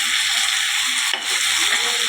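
Grated coconut fries in a pan with a steady close sizzle and light stirring scrapes, a continuous hiss that dips briefly midway.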